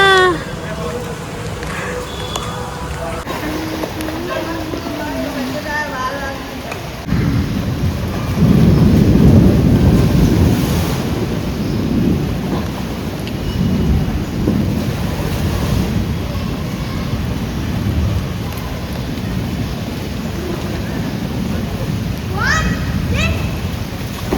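Heavy rain pours steadily during a flood in Surat, India, with a loud, dense roar that swells after the first few seconds and stays close and constant, with a deep rumble beneath. Voices talk over it at the start.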